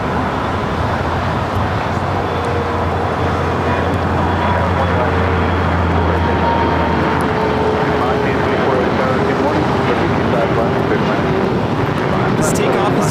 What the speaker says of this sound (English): Korean Air Flight 17 coming in from Seoul, arriving there on the north side